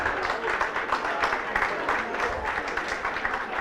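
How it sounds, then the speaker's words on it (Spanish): An audience applauds at a book launch event, with a dense, steady wash of clapping heard from a moderate distance for several seconds. "El aplauso es para ustedes."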